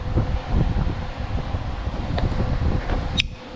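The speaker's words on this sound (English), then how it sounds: "Let me move away so I'm not in the blower fan." A blower fan roars steadily at close range, a broad constant whoosh with faint clicks and a brief high squeal near the end.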